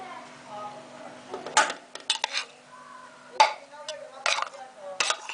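A spoon scrapes and clanks against a pan while potato samosa stuffing with coriander is stirred; several sharp metallic knocks come at irregular intervals over a quiet background, with faint talk early on.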